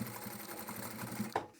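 Sewing machine stitching the boxed corners of a fabric bag, a quick continuous run of close mechanical needle clatter lasting just over a second before stopping with a small clunk.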